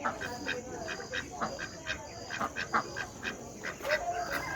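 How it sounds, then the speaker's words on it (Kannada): A black duck at a bird park on Kanakapura Road quacks in a quick, repeated series of nasal calls, moderately faint against a busy background of other birds. "ಇದು ಬ್ಲ್ಯಾಕ್ ಡಕ್"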